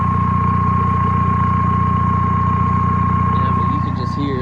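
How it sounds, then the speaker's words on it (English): VW TDI diesel running with turbo and exhaust at a steady close idle, a low pulsing rumble with a faint turbo whine on top, and a voice joining near the end. "You can hear the turbo now"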